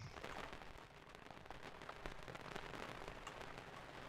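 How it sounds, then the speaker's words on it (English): Video game rain ambience with a static-like hiss plays as a dense, steady crackling wash. It is fairly quiet, with faint irregular pops over it and no speech. "the rain here sounds weird"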